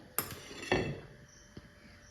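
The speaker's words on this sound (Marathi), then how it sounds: "आता आपण तवा ठेवलेला आहे गॅसवर." Three metallic clanks, the middle one loudest, as a heavy griddle is set down and shifted on a lit gas stove, in a quiet room.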